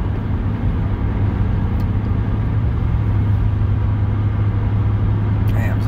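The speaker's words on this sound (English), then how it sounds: "Damn, is that a government vehicle?" A government vehicle driving past on a road gives a steady, fairly loud engine and tyre rumble that holds throughout, with no clear rise or fade.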